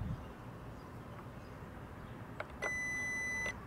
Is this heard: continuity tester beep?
yes